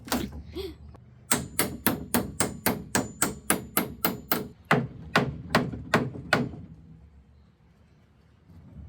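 Hammer blows knocking apart the base of a 1952 dresser held by old, dry glue: a close, steady run of about fifteen sharp, loud strikes at a brisk even pace, then quiet.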